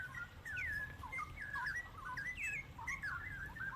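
Straw-headed bulbul (cucak rowo), a wild-caught bird being tamed, sings a run of loud, rich warbling phrases, repeated whistled notes rising and falling close by with no talk over them.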